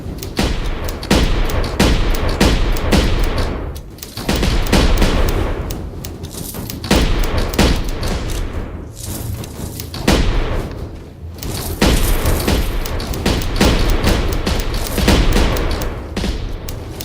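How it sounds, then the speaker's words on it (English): Bursts of rapid weapon fire repeat in dense volleys from a virtual-reality tower-defense game, loud and close, with short pauses between the bursts. "So you can rapid fire this thing."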